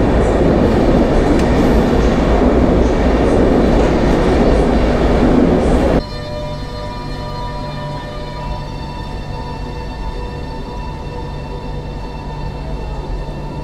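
The Jantar passenger train rumbles past close by in Poland with loud, continuous rushing noise, then cuts to a quieter, steady mechanical hum with faint tonal lines.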